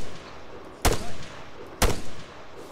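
Two sharp gunshots in ArmA 3, about a second apart, loud and close with short echoing tails over a quiet background.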